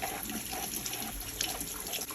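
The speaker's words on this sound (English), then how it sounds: "So I found just using just a flow of water, warm water seems to work the best." Warm water pours in a steady, close, continuous stream from a tap over an Arctic Spa hot tub filter being cleaned, with no pauses or voices.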